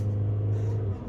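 A car accelerating during a city driving lesson, a steady low engine hum and rumble from inside the cabin that fades slightly at the end.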